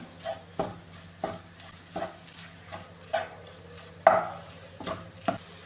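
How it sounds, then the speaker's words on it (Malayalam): Tomato and spices sautéing in a pan for coconut chicken curry, stirred with a spoon: regular scraping strokes about every half second over a low steady sizzle, close up with no talk. "ഇനി ഇതിലേക്ക് ഈ ടൊമാറ്റോ ചേർത്ത് കൊടുക്കാമേ ഇതും കൂടി ഇതിലിട്ട് ഒന്ന് വഴറ്റിയെടുക്കാമേ"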